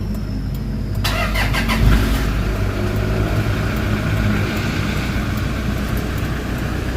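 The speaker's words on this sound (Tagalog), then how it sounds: "start natin makina guys" Toyota Fortuner engine starting at night: a brief cranking whir, then the engine catches and settles into a loud, steady idle rumble close by.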